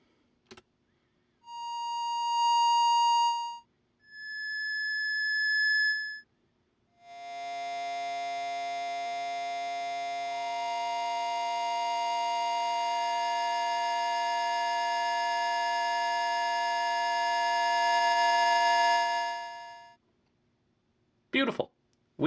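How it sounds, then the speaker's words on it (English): Electronic oscillator tones from a no-input mixing board feedback loop: a single clear tone, then a higher one, then several stacking into a sustained buzzy harmonic chord that holds and swells before cutting off, with clicks at the end. "We have multiple oscillators. We can make chords."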